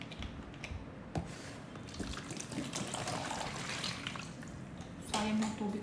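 Water runs and trickles steadily, with a few splashes and knocks during washing with soap, set against faint background chatter and rustling.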